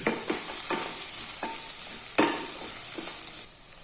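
Cumin and coriander powder sautéed in a pan, a steady close sizzle broken by several scraping stirs, with no voices.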